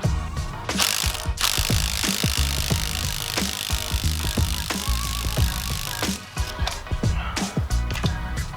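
A ratchet fitted with a Torx E10 bit removes a stud from an AC compressor, clicking in fast, repeated bursts at close range with metallic taps and clanks mixed in.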